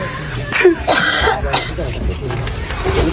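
A person coughs sharply a couple of times close to the mic, with speech-like vocal sounds around the coughs.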